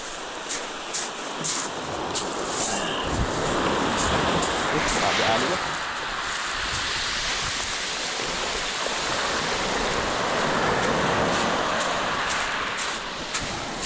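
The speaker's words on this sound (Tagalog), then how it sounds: "Grabing alon nito" Strong ocean waves rolling and crashing along a Philippine shore where small boats put out, a loud continuous wash of surf that surges and recedes, with a voice speaking over it at times.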